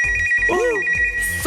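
A telephone ringing in on a radio call-in comedy show, an electronic ringtone with a warbling chirp over a sustained tone, loud and close, with a brief voice sound over it.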